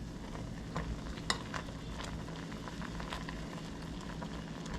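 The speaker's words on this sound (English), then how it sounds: "So next, we gotta add the green onions." Green onions are stirred in a hot pan at a truck-camping cookout, giving a steady, soft sizzle with a few light scraping clinks from a utensil, with no talk.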